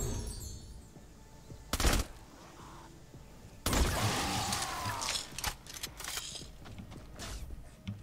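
Candy Corn LMG fire in Fortnite Save the World, heard as two loud bursts of rapid shots over a busy game soundscape with scattered clicks and mechanical effects between them.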